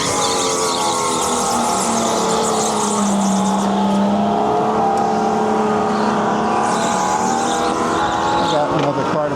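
Loud supercharged go-kart engines roar continuously with a rising and falling pitch during qualifying at Edison, New Jersey, while tires squeal and scrub, and a voice talks over the noise.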